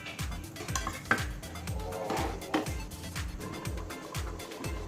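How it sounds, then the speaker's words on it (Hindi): Mutton biryani in a pot being stirred with green chillies mixed in, a metal spoon scraping and clinking against the pot in a steady repeated rhythm, with faint sizzling underneath. "अब इसमें हरी मिर्च मिक्स करेंगे।"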